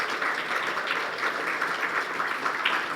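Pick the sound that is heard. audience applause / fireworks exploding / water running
audience applause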